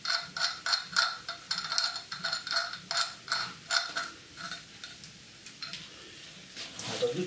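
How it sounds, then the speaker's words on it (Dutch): A nut is ratcheted onto the axle of an electric hub motor fitted to a wooden bicycle, giving rapid repeated metallic clicks in bursts that slow and thin out toward the end, close and fairly quiet. "Ik kan in ieder geval die moer hier opdraaien."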